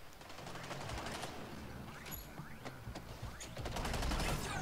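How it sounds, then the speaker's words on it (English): Rapid SMG bursts and grenade blasts from the Suicide Squad: Kill the Justice League video game, dense repeated fire with whooshing projectiles, a player talking quietly underneath. "shooting SMG again, throwing grenades"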